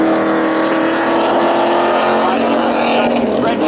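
Drag race cars at an Independence Day thrill show roar loudly and continuously, engine drone shifting in pitch as they pass, with a commentator's voice running over the noise.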